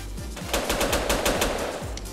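Gunfire in a Grand Theft Auto game, heard as a rapid run of sharp, evenly spaced shots in a steady burst over low rumbling game background, with no talking.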